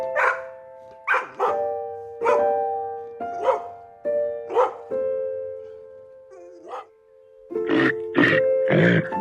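A dog barks in a series of loud, close, evenly spaced woofs, about seven barks with a brief pause before a final cluster of quicker barks.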